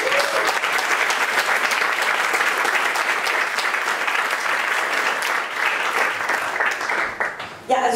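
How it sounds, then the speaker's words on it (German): An audience welcomes Constanze Kurz onto the stage at a conference: loud, dense, sustained applause from a large crowd, steady for several seconds before it trails off abruptly near the end. "Lassen Sie mit einem großartigen Applaus begrüßen."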